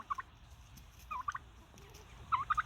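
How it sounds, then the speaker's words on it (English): A pet turkey in a backyard flock with chickens and ducks gobbles in three short bursts, each a quick rattling run of notes, heard fairly close over a quiet outdoor background. "we especially love the turkey"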